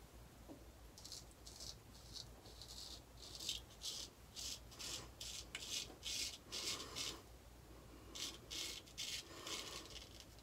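A razor scrapes across facial whiskers in a cross-face shave, making a close, rhythmic series of short raspy strokes with brief pauses between them, steady and fairly quiet with no talking.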